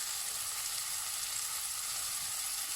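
Onions frying in a pan give off a steady, soft hiss of sizzling, faint and even throughout with no talk.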